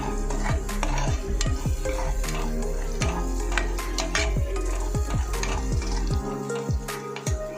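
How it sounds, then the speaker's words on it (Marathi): Garam masala powder is stirred into a vegetable curry of val beans in a pan over medium heat: repeated metal spoon scrapes and clinks against the pan over a soft sizzle, close and rhythmic. "गरम मसाला पावडर टाकून घेऊया यामध्ये हे सुद्धा चांगलं मिक्स करून घेऊया"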